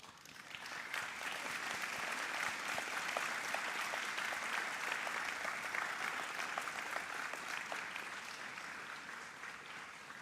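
Audience at a Faculty of Business and Law graduation ceremony applauding, a dense, even wash of many hands clapping that holds steady for about ten seconds, heard from some distance in a large hall.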